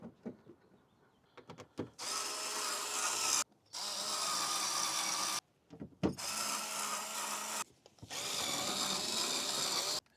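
A power drill drives screws into wood inside a Prius camper conversion: three long whirring runs of several seconds each, separated by short pauses and light handling clicks, close and alone.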